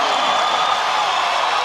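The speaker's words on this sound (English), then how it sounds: "Listen to that Bomber crowd." A packed high school crowd at a boys 4A state basketball championship roars in a loud, sustained wash of cheering with no break.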